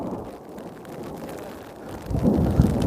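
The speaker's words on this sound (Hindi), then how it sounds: "देखो कितनी भयंकर वाली बिजली कड़क रही है।" Thunder rumbling during a storm on the Kedarnath trek, a low wind-buffeted roar that swells into a louder deep rumble near the end.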